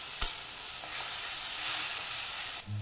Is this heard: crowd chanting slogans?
no